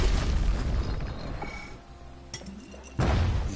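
A video game explosion in Bastion, likely a live munition or grenade going off, bursts loud with a broad low-end boom at the start and a second sharp blast near the end, with crackling debris in between.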